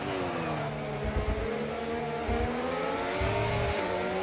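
A race car engine held at high revs in a racing video game, a loud sustained buzzing drone with shifting pitch and brief low thumps underneath, no talk.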